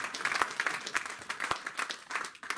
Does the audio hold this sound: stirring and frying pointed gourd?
no